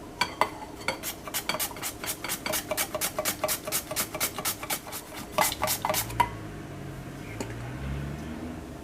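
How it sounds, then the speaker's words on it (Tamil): Potatoes are shaved thinly on a chips slicer in quick rhythmic strokes, about a dozen evenly spaced crisp slicing sounds close up, then stopping into quieter kitchen noise. "இந்த மாதிரி சிப்ஸ் சீவுறதில் சீவிடலாம் உருளைக்கிழங்க."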